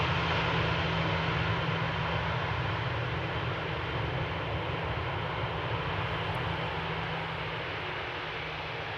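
A plane comes in to land at Amsterdam Schiphol Airport, its engines a steady, loud roar that drones evenly and fades very slightly toward the end.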